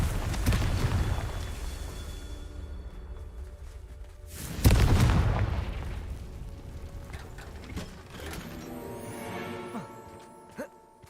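A Confringo spell explosion in a video game lands as one loud, booming burst partway through, set among clanking mechanical game sounds and fading into softer rattles and clicks.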